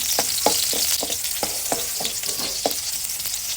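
Garlic and onion sauté for tinola in a pan, with a loud, constant sizzle of hot oil and a regular run of scraping stirring strokes, with no voices.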